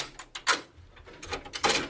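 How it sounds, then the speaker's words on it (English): Heavy iron vault doors creak and clank open in an old-time radio drama, several scraping, knocking bursts in a short sequence with no speech. "Let's open these iron doors."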